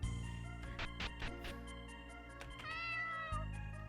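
Cat in an RPG Maker 2003 video game meowing as the heroine pets it, several short bright meows over steady game music, clear and close.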